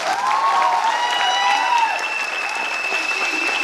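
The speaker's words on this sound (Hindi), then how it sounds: "हमारी कंपनी के आदरणीय सीएमडी सर के लिए जोरदार ताली बजाइए" A company gathering breaks into loud, steady applause for the firm's CMD. The clapping crowd carries on evenly, with a few sustained musical tones ringing over it.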